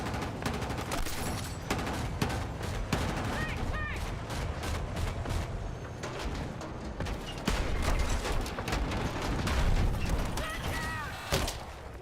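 Tank firing and gunfire in Battlefield 6: a continuous, dense clatter of rapid shots and heavy thuds, loud and close throughout, with occasional voices underneath.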